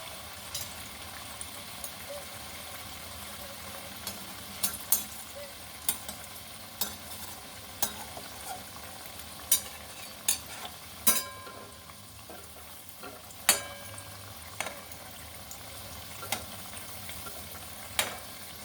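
Bread pieces frying in hot oil for a Bengali chitrakut sweet, a soft, steady sizzle broken by scattered small pops and crackles throughout.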